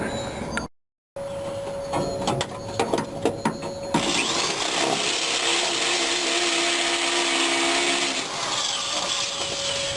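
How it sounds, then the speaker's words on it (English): A power drill whines steadily for several seconds, its motor pitch shifting as it bites through material on a 1965 Ford Mustang GT, preceded by clicks and handling noises. "So let me get my drill and I'll drill that out a little bit."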